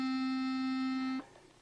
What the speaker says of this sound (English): A middle reed would be called a clarinet reed,